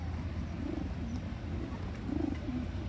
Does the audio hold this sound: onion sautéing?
no